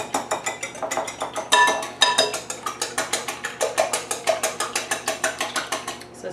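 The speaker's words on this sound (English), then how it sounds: "we're gonna whisk this up" Eggs and milk are whisked in a bowl, producing rapid rhythmic clinking strokes that repeat steadily and close up, with a brief louder burst partway through.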